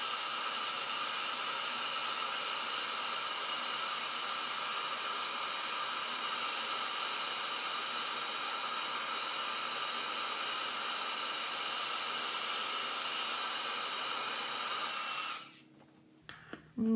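A heat tool melts clear embossing powder on a rubber-stamped card, giving a loud, constant blowing hiss that runs unbroken for about fifteen seconds before cutting off abruptly.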